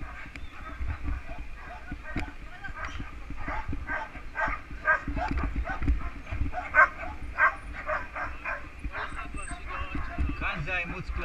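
Dogs bark repeatedly at a dog adoption event beside a park in Ra'anana, sharp yaps and barks scattered at mid distance, with people talking and general outdoor bustle mixed in.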